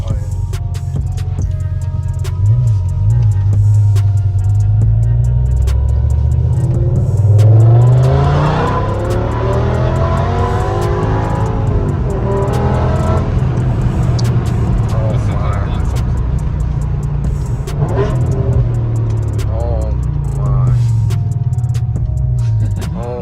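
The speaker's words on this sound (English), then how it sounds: "this V10 has a distinct sound to it." Straight-piped BMW E60 M5 V10 with a valved exhaust revving while driving, with loud rising and falling engine sweeps and a steady low drone between them, heard from inside the car over a long stretch.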